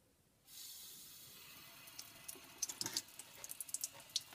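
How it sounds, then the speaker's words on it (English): Water runs from a sink tap while rinsing wet sand residue out of a container, a steady close hiss with a few splashy spikes as the flow hits the surface. "we just turn on the sink"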